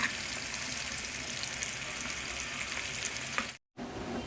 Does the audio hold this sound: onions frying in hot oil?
yes